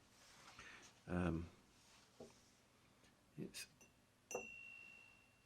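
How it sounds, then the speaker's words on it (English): Tapped lead crystal glass, an antique piece in ropey condition, gives several short bright clinks and rings, one note lingering as a clear sustained tone, with quiet talk around it. "Listen to that. Yeah, it's lead glass."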